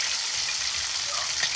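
Food fries in a pan with a steady, close hiss and crackle that holds at an even level for the whole short stretch, with no talking over it.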